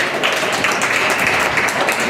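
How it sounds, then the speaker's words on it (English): A crowd claps steadily for Zach at an event, dense broadband applause from many hands filling the space without pause and no one speaking over it. "Everybody give Zach a round of applause"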